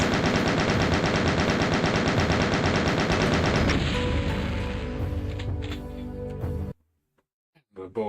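Rapid dense bullet fire from the PC game Touhou Fantasy Eclipse, a loud continuous stream of fast shots that thins into scattered electronic effects before cutting off, with game voices mixed in.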